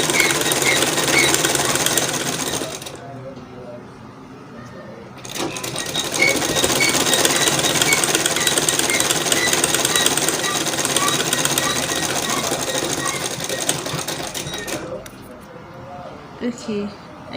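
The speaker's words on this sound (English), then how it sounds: "I'll just sew all through my waist using this other side that is not folded" A sewing machine stitches through the waistband of a pair of shorts, running in a steady, loud mechanical whir with a brief pause before starting again and continuing for most of the stretch.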